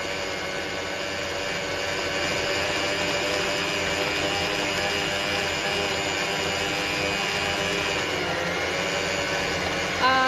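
A stand mixer kneads donut dough made with tape, its motor a steady, loud whine that runs continuously, with a brief bump near the end.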